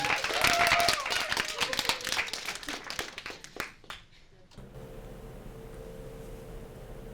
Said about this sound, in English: Let's have a warm round of applause for Aidan.